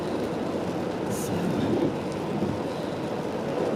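Rain patters steadily on a car window and windshield during a welcome rainy spell, a dense close hiss that fills the whole moment with no voices, any wiper strokes buried in the wash.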